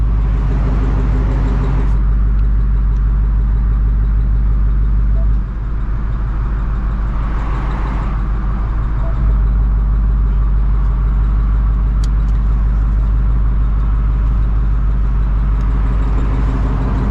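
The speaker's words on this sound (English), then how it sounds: "I literally think that's my active exhaust" A 2024 Ford Mustang GT idles with its active exhaust droning, a loud, steady low rumble that holds constant throughout, with faint cabin sounds over it.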